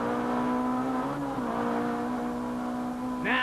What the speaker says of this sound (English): gritty British champion Frank Sidner goes into Fulstons, but well behind James Weaver's class-leading BMW